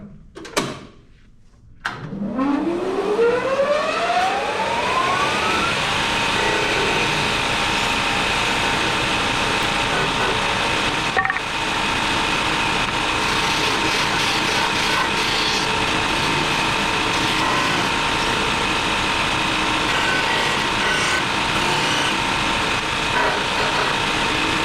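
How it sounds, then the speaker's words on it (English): Wooden cutting board corners worked on a disc sander and spindle sander: a power sander spins up with a rising whine, then runs as a loud steady mechanical drone with grinding friction throughout, close by and without speech. "So I'm going to finish up these corners on the disc sander, and then we'll move to the spindle sander to do these inside corners."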